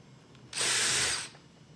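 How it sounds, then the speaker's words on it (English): Power drill boring the rest of a pilot hole through a clearance hole, a single bright whine lasting under a second, close and fairly loud against a quiet background. "I drill it the rest of the way."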